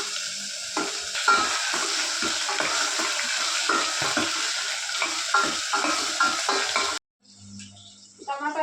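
Tomatoes, curry leaves, chilies, garlic and mustard seeds fry in oil in a pan for tomato rasam, giving a steady, close, loud sizzle with stirring scrapes, then a sudden cut to quieter clatter near the end.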